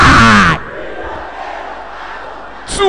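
A church congregation shouts loudly in unison in a burst that cuts off sharply, then the large hall falls to a murmur before the next shout begins.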